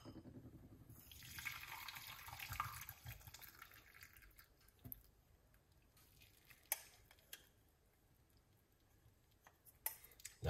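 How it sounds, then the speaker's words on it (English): Tea is poured into a cup: a trickling liquid stream fills the early seconds, then thins to scattered drips and small clinks in a quiet room. "Let's pour off the tea."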